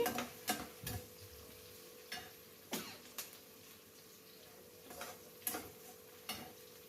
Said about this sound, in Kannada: ನೋಡಿ ಚೆನ್ನಾಗಿ ಫ್ರೈ ಮಾಡ್ಕೊಳ್ಳಿ.